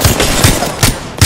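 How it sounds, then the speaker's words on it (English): Loud, close bursts of automatic gunfire from the video game Apex Legends, with about four sharp, evenly spaced shots over a dense crackling background. "Opening fire."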